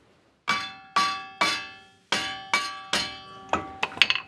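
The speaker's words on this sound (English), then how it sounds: "I've got a soft hammer" A soft hammer strikes a corroded suspension ball joint on a Land Rover Discovery 2, nine or ten ringing metallic blows at a steady pace that quickens toward the end, close by with no voices.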